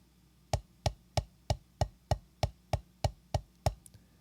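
Eleven crisp drumstick strokes land in an even, steady pulse, a triple stroke followed by a double, each hit sharp and close with quick decay, played quietly and alone in a drumming practice lesson.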